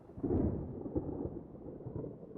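Low rolling rumble of thunder from an approaching storm, a sustained distant grumble with a few soft swells and no voices.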